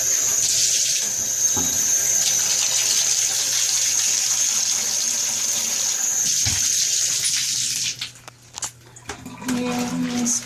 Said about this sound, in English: I'm going to take the cold water and just put a splash in the bottom, like maybe an inch of water